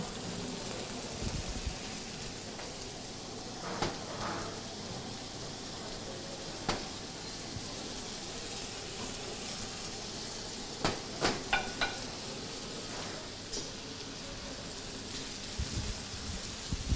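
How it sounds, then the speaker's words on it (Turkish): Butter melting and sizzling in a pan while mıhlama is being cooked, a steady soft frying hiss with a few brief clicks and taps of utensils, fairly quiet and with no talk. "Yağımız birazcık eridi."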